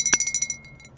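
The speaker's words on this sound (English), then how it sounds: "So, there's the other bunny bell." A small metal bunny bell from a thrift-store jewelry haul jingles close by in a quick run of bright tinkling rings that fade away within about half a second.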